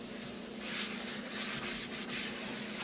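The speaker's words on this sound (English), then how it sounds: "once the pan starts smoking, I then wipe all of the excess oil out." Cloth or paper rubs across a smoking cast iron pan to wipe out excess oil, giving a close, steady scrubbing rasp with a few stronger strokes.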